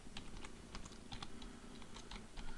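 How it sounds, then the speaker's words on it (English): Quick, light clicks of keys on a computer keyboard come in a steady irregular patter, close and fairly quiet over faint background hiss, with no speech. "I'll just type in HTTP"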